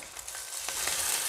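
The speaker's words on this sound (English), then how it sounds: "And we want that nice sizzle." Salmon patties sizzle in a preheated skillet, a steady, fairly quiet crackle of frying with brief pops and no voices.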